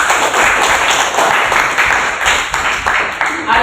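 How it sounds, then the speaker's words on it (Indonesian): Students in a classroom clap for a classmate who answered, a short burst of dense, steady applause that stays loud throughout. "Beri aplaus teman Anda."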